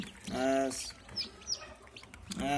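Sonali chicken chicks peep in short bursts of high chirping, close by, with a voice speaking briefly between the calls.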